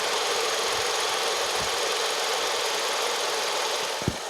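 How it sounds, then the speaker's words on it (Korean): A small Kia Ray gasoline car engine idles steadily at close range, a smooth, even hum with a faint knock near the end. "바로 엔진 소리 한번 들려드릴게요."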